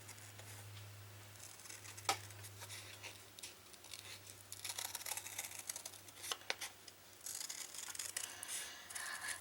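Cutting out a gingerbread man ornament piece: faint, irregular snipping and scratching strokes close by, under a low steady hum.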